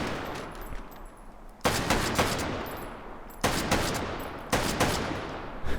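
An M1941 Johnson rifle fires in a VR video game, sharp loud reports in quick clusters of two or three, each group followed by a decaying echo and short quiet gaps.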